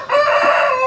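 A rooster crows on a Tiger-breed chicken farm, one loud, near, sustained harmonic call held for just under a second with no talk over it.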